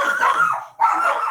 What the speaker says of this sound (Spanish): perdón por mis perros